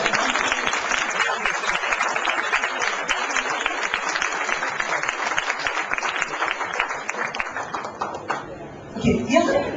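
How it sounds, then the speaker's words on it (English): An audience at a book launch gives a round of applause, dense rhythmic clapping that fades toward the end as a voice begins to speak. "could you give a round of applause for all the people out there?"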